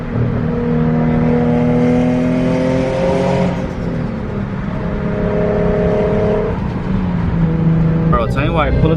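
A turbocharged Infiniti Q50 engine revs and accelerates up close with rising, whining boost tones, winding down and pulling again, while a person talks over it.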